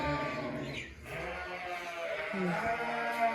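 Several pregnant ewes on a sheep farm bleat close by, their overlapping calls running continuously over a steady background.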